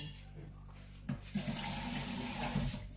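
Water from a kitchen tap starts with a sudden splash and then runs steadily in a close, hissing stream, following a brief quiet, low-level moment during cheeseburger cooking at home.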